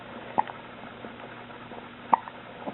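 A young child hiccups twice, each a short, soft catch spaced well apart over a quiet room background.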